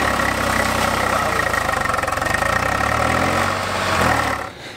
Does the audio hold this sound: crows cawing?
no